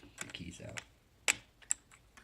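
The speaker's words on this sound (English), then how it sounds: "And then I just have a golf tee to take the keys out." Keycaps being pried off a mechanical keyboard with a golf tee during a teardown: a few sharp plastic clicks and snaps, close and fairly quiet, with soft handling noise between them.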